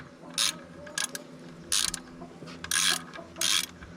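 A ratchet turning a 17 mm socket on a 4-inch extension while servicing an RK25 tractor gives off five short bursts of close, crisp clicking, each separated by a brief pause.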